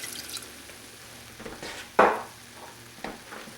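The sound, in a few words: tomatoes and white wine sizzling in a pan for seafood brodetto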